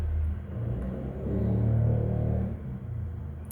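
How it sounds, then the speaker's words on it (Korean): A motor engine rumbles close by, its low growl swelling and fading over a few seconds as a vehicle passes, with no voices. "오토바이 소리 시끄럽죠?"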